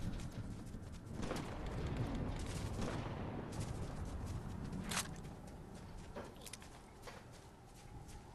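Gunfire in the Fortnite video game cracks out as scattered sharp reports over a dense, steady game bed, moderately loud and irregular, with no voices.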